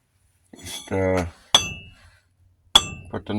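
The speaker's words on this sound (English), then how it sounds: "put the nuggets, the Dorade in there, and beat it with a hammer. Crush them up with a hammer." A hammer strikes down twice to crush metal nuggets, each a sharp, loud clanking blow about a second apart, preceded by a brief voice.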